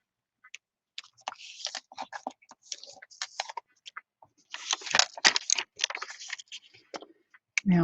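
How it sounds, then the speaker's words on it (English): Pages of eco-printed paper creased with a bone folder, close crisp rustles, scrapes and taps coming in irregular bursts separated by short silences. "I've got my bone folder here. And all I'm going to do is very carefully fold my pages."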